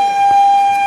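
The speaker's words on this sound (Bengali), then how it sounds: "ট্রেন ছাড়ছে" The Darjeeling Mail train sounds its horn as it departs, a loud steady tone held for just under a second.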